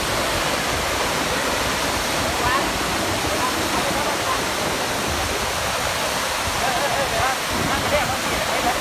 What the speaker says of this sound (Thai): อย่าลืมมาแวะน้ำตกตาลที่นี่